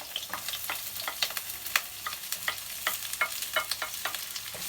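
Spring onion, onion and ginger frying in oil for Singapore noodles, a steady close sizzle with frequent quick clicks and scrapes of stirring at an even pace, nobody talking.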